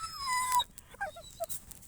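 A dog whimpers in a snowy forest, a rising-falling whine followed by several short high yelps and whines, close and fairly soft.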